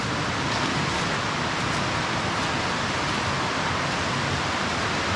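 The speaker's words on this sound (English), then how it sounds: "The sound of the water just racing." Water rushing through a flooded abandoned railway tunnel, a loud, steady, broadband roar with no breaks, heard alone.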